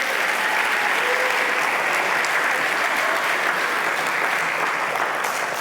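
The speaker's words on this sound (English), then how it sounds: "Can we give a big round of applause to the organizers and sponsors and all of you of this conference for making this possible?" A conference crowd gives a big, sustained round of applause for the organizers and sponsors, a dense, even wash of clapping that stays loud from start to finish.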